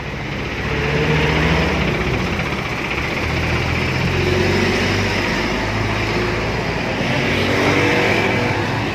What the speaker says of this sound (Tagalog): So ito, may isa tayong tow truck.